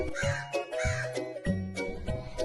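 A crow caws four times in a steady rhythm, harsh nasal calls that are close and fairly loud with short gaps between them.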